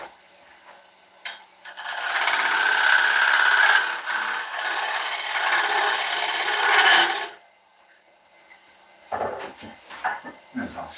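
Skew chisel cutting wood on a spinning lathe, a loud rasping scrape lasting about five seconds with a brief dip midway, then tool knocks and handling noises.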